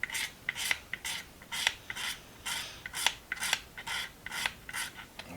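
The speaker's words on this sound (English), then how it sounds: "What I'm going to do is scrape the varnish off the handles" Brittle old varnish being scraped off the handles of vintage British hand tools: a quick, rhythmic run of dry, rasping strokes, about two or three per second, close to the microphone with no talking.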